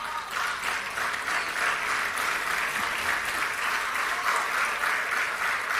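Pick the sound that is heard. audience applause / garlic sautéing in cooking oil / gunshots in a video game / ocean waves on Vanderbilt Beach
audience applause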